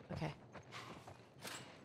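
A horse walks along in The Last of Us Part I, its hooves clopping in a loose, uneven rhythm at moderate distance, with a few louder steps standing out over faint game ambience.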